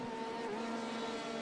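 Race car engines at the Nürburgring in a racing video game, including an LMP1 prototype, make a steady, sustained engine drone with a whining tone that shifts slightly in pitch, heard alone without talk.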